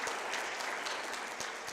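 A panel audience at a university gives a steady round of applause, the dense clapping filling the whole stretch at an even level with no voices on top.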